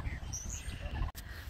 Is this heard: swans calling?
yes